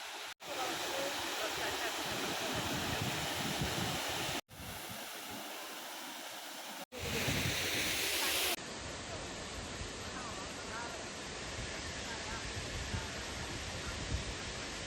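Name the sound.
waterfall near Sohra, Shillong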